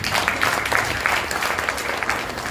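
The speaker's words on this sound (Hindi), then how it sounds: "तो हमारे वैष्णव के लिए भी तालियां बजेगी" Audience clapping at a devotional mango festival gathering at a Delhi temple, a steady, dense patter of many hands sustained throughout at moderate loudness.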